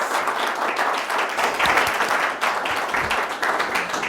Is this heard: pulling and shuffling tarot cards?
no